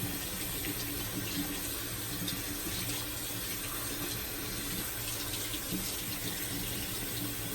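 Tap water runs steadily into a sink as a shaving brush is wetted, a continuous close hiss and splash holding an even level for several seconds with no voices.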